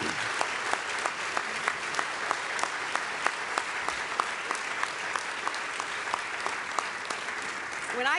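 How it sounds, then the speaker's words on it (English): Applause at a diplomatic ceremony for a portrait unveiling inside the State Department, with steady dense clapping throughout and a few sharper claps standing out, plus a faint voice underneath. "I want to give a round of applause to those who are a part of our diplomacy and"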